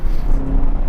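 A 2018 Chevrolet Camaro ZL1 1LE on a racetrack straightaway, its engine pulling hard in a loud, steady low roar heard from inside the car, with no talk.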